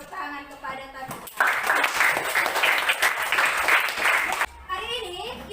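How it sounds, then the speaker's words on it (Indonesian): A classroom of students claps for a classmate named Kadita in a burst of lively applause lasting about three seconds, framed by a teacher speaking before and after. "Beri tepuk tangan kepada Kadita."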